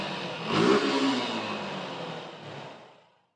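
A mid-pitched motorcycle engine revs up sharply, holds a steady roar, then fades out to silence.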